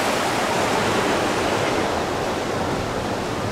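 Close, constant rushing of river rapids beside the Estes Park riverwalk, a dense watery roar holding steady level from start to finish with no voices.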